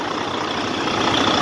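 A 2015 Freightliner Cascadia truck engine idles, a steady, even drone with a dense broadband hum, close and constant through the short clip, no talking.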